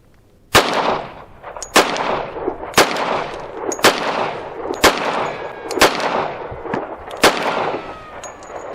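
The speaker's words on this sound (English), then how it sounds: "the recoil on a 1911 45 really isn't that" A 1911 .45 pistol fired outdoors, producing about nine loud, sharp shots at a steady, unhurried pace, each followed by a brief echoing tail.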